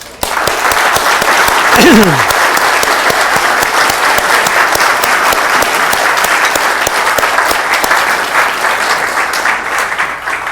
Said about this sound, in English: I want an applause for Peter Follensby